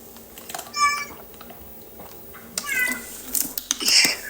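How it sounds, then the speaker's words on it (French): A cat meows several times close by, one short cry, then a longer drawn-out series of wavering meows near the end. "Oui, c'est un chat."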